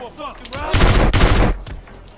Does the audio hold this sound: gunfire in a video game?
yes